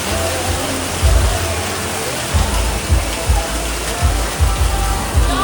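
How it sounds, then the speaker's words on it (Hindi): Heavy rain and hail come down in Mussoorie, a constant rushing hiss broken by repeated deep thuds of hailstones striking close by. "ओले पड़ रहे हैं"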